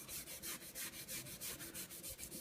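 A staining pad wipes wood stain across a wooden farmhouse-style Christmas sign in quick, even back-and-forth strokes, about a dozen soft, close rubbing swishes in a steady rhythm.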